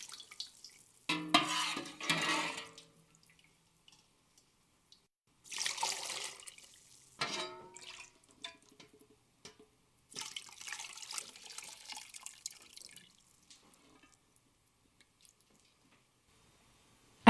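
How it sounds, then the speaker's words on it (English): Veal stock for demi-glace is poured and strained through a fine sieve, giving intermittent splashing, trickling and dripping bursts with quiet gaps between pours. "you can use a small saucepan to help strain the remaining stock through a fine sieve"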